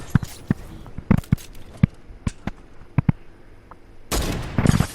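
Video game gunfire from a pump shotgun, a sniper rifle and an AR: sharp separate shots spaced irregularly, some near and some farther off, ending in a louder, denser burst of fire.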